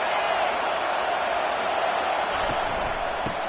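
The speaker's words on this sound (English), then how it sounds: "the crowd coming to life here trying to help this defense down in the red zone" A college football stadium crowd at a Georgia vs Oregon game roars in a steady, dense wash of cheering, with a commentator talking over it.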